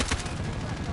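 Loud, dense bursts of rapid gunfire come from the Modern Warfare video game, sounding close and filling the whole short moment.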